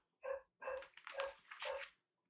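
A dog barks four times in quick succession, the barks near and fairly loud with brief gaps between them and no talk.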